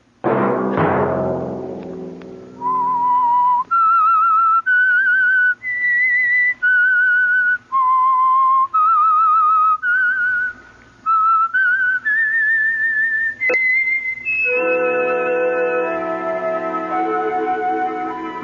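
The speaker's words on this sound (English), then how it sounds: "Let that whistle be your signal for the Signal Oil program, The Whistler, each Sunday night at this same time." A lone whistled theme melody, the signal for the Signal Oil radio mystery program The Whistler, played as clear sustained notes in a steady tune without talk.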